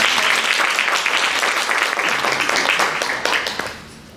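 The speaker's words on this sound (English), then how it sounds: "You can give a big applause for that." An audience at a conference opening ceremony breaks into dense, loud, continuous clapping that holds steady and then trails off quickly at the end.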